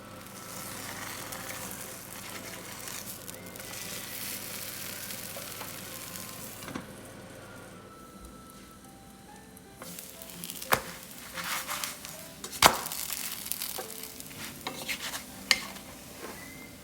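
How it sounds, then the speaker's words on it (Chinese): Tapioca-starch scallion pancakes fry in oil in a pan over medium heat. A soft, even sizzle runs throughout, with a few light clinks and scrapes of utensils later on. "用中火在锅子里放一些的油两面煎到金黄呢就可以了"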